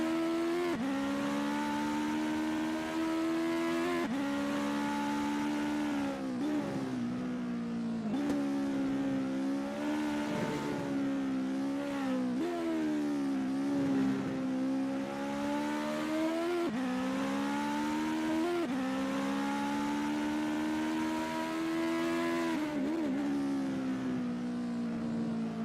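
Legend race car engine from a racing game set at VIR Grand West, droning loud and continuous as it revs up and down through gear changes and corners, with no talk over it.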